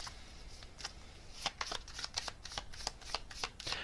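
Oracle cards shuffled by hand in a quiet room, a steady run of soft riffling flicks and papery slaps with brief pauses between bursts.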